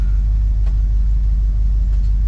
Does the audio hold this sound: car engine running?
yes